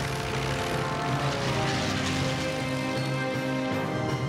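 A cartoon propeller aircraft taking off, a steady loud droning engine roar that holds evenly throughout.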